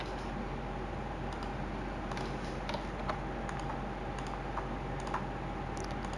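A computer keyboard is typed on to enter a search keyword, with scattered light key clicks at an irregular pace over a steady background hum, fairly faint.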